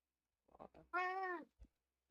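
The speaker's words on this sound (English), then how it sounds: "Why is it every time I ask my cat to say hi, he stops meowing?" A pet cat named Toby gives a single drawn-out meow after a couple of short chirpy vocal sounds, close and clear in a quiet room, ending with a brief soft grunt.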